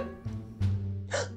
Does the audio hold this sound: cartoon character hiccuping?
yes